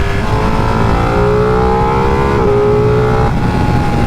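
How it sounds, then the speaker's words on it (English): A 2019 Ducati Panigale 959 Corse under full throttle, its engine note climbing steadily in a loud, close, continuous rise, with a brief shift near the middle before pulling on; no one speaks. "When you're under full throttle, engine sounds amazing."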